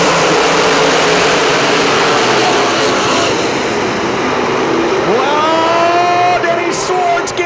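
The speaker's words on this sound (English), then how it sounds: "green flag is out, and we're racing" Dirt track race cars roar together at full throttle after a green-flag restart at a UMP DIRTcar National Championship race, a dense continuous engine drone with rising pitch sweeps as individual cars accelerate past, with faint commentary beneath.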